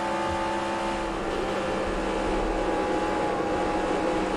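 A race car engine in NASCAR Racing 2003 Season at Kansas drones steadily and loudly throughout, with a sustained high-pitched whine and rumbling undertone, no speech over it.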